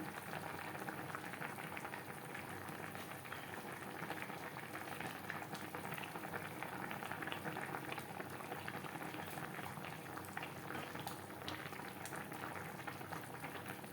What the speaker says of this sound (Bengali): গ্রেভির সাথে মাছ আরও তিন চার মিনিট রান্না করব